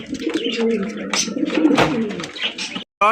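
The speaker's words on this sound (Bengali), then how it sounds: "চমৎকার একজন আপনার বিউটি কবুতর পাইতেছেন ভাই" A white beauty pigeon coos in low, rolling throaty notes close by, repeating over a few seconds with some background chatter and a brief silent break near the end.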